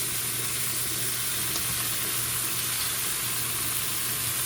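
Venison heart fries in a hot pan with a continuous, even sizzle, a steady hiss at close range with no break.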